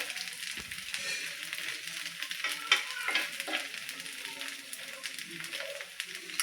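Sabudana thalipeeth, a patty of sago pearls, cooks in a pan with a steady close sizzle and soft crackle running without a break throughout.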